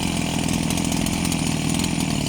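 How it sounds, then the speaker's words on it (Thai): A loud, steady two-stroke engine whine from a brush cutter running continuously, close up and buzzing without pause. "มีเสียงเครื่องตัดหญ้าเข้ามานะครับ"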